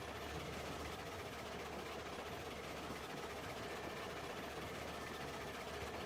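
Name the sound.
steam locomotive running in video game Railroads Online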